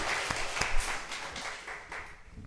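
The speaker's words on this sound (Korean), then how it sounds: "우리 한번 환영의 박수 주시기 바랍니다." A church congregation at a Sunday service applauds in welcome, soft, scattered clapping with a few sharper claps standing out, tapering off toward the end.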